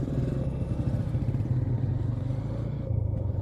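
Motorcycle engine on a snowy, icy mountain road at night in freezing cold, a steady low drone with clattering texture as the bike slips, near and continuous without talk.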